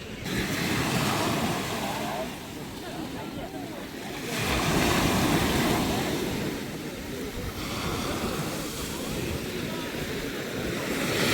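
Sea waves wash steadily onto the shore in a continuous loud surge, swelling and easing in turn, with wind buffeting the microphone.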